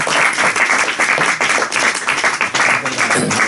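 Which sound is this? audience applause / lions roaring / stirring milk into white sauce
audience applause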